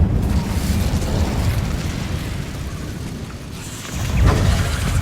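Incendio fire spell cast in Hogwarts Legacy: a steady roaring, whooshing burst of flame that holds loud and dense for several seconds, then surges again near the end, with no talking.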